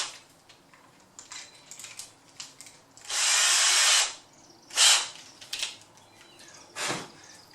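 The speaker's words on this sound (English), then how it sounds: "We're going to go ahead and swap out a bit here for a drill bit that will fit in there." A power drill whirs in short bursts, one lasting about a second followed by a briefer spin, amid light clicks and handling noises.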